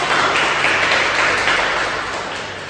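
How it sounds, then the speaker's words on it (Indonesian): Brief burst of applause in a classroom during a microteaching lesson, a dense wash of clapping that fades slightly toward the end with no voices. "Tepuk tangan dulu untuk kita hari ini."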